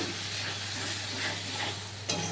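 Meat sizzles and fries in a pan with biryani masala, Kashmiri chili powder and salt, a steady close crackle with faint stirring scrapes and a sharper clink near the end.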